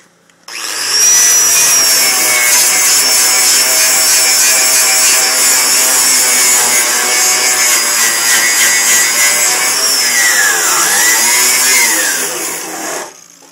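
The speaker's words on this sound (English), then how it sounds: "So, grab your wire wheel again." A wire wheel grinds away spot welds on double-layered sheet metal of a 1969 Ford Mustang, a loud, steady, high-pitched whir and scrape held for about twelve seconds before winding down, with a pitch dip near the end.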